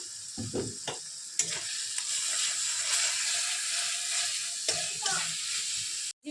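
A paste of ground mustard and poppy seeds sizzles in hot oil with turmeric and spices while pabda fish curry cooks, a steady close frying hiss with occasional scraping stirs and clicks.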